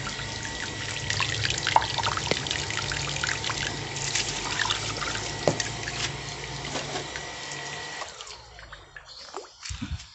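Water pumped from a high-iron well flows and trickles steadily for several seconds, with small drips and splashes, then the flow drops off near the end.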